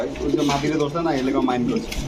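A pigeon coos softly close by, its low murmuring calls largely buried under someone talking nearby.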